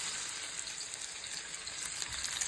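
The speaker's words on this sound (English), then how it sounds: "I'm gonna put my salmon in here and saute it a little bit" Salmon sautés in a pan with a steady, faint, hissing sizzle that runs through without a break and has no talk over it.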